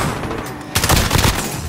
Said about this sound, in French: Donc, du coup, on se tire dessus.